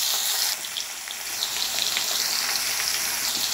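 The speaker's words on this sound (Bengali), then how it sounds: "কিছুক্ষণের জন্য একটু ভাজা ভাজা করবো আলুটাকে" Potatoes fry in hot oil in a pan with green chillies, giving a loud, steady, close sizzle with faint stirring, and no voices.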